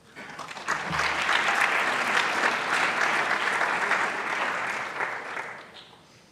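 A school assembly audience applauds the girls Nordic team, building quickly to a sustained, full round of clapping that fades near the end.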